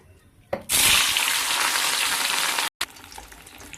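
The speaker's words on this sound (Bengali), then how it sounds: "এই যে মাছ সব ভাজা হয়ে যাচ্ছে" Salted fish pieces frying in oil set off a sudden loud, bright sizzle that holds steadily for about two seconds, cuts out briefly, then settles into a quieter crackle.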